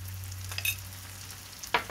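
A spatula stirs tomato ketchup and sugar in a frying pan, giving two short scraping strokes over a low, faint sizzle and a steady hum, close up with no talking.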